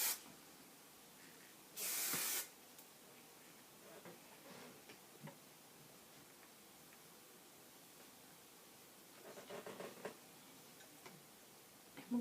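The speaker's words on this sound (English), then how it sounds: "we're going to spray it" A short hiss of hair spray hits styled hair, one brief burst lasting about half a second, close and distinct against a quiet room with faint ticking and handling noises.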